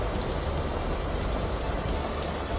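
Heavy monsoon rain pours down in Mumbai as a dense, constant hiss of drops on surfaces. It stays loud and unbroken throughout, with no voices.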